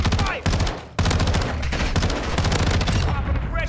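Dense, loud automatic gunfire from a fast-firing Tempus Razorback rifle in Call of Duty Modern Warfare II, with rapid bursts barely pausing, close and continuous, one brief gap near the start, and game voices mixed underneath.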